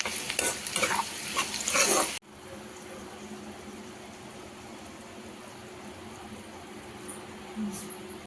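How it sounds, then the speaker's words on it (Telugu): Okra and onion frying in a pan: about two seconds of loud stirring with a spoon scraping the pan, then a quieter steady sizzle that continues alone. "బెండకాయ ఉల్లిపాయ మంచిగా ఫ్రై అయిపోయింది"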